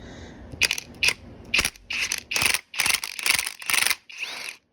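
A ratchet wrench loosens the strut top bolt on a 2012 Mustang GT during front crash repair, with a vise grip holding the shaft. Close, loud ratcheting clicks come in about eight quick bursts, then stop, with no talking.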